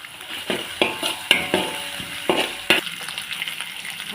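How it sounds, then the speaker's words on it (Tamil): Chopped onions tossed into hot oil with frying chilli and garlic for white mihun goreng noodles, a steady sizzle broken by several sharp scraping stirs and clinks of a utensil against the pan. "அதோட நம்ம வெங்காயத்தை சேர்த்துக்கோங்க."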